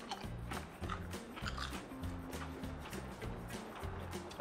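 Wilde chicken protein chips crunched in the mouth, a steady run of close, loud bites and chewing over about four seconds, with no talking.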